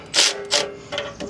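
A ratchet runs bolts down during a heavy-duty sway bar install on a Jeep, short bursts of close mechanical clicking, four quick spurts in a row.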